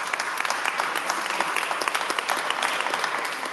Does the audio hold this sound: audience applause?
yes